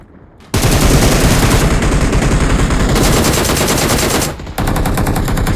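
Gunfire in the mobile game PUBG Mobile (BGMI): loud, sustained automatic bursts of rapid shots filling the clip, with one brief pause near the end before the firing resumes.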